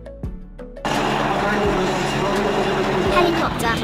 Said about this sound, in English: Helicopter, a helicopter used for vertical takeoff and landing, often used in rescue and transport missions.